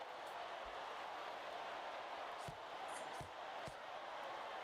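Steady crowd roar from the arena audience of a VR boxing game, Thrill of the Fight 2, a dense continuous wash of voices at even loudness with a few faint thumps and brief higher cries poking through.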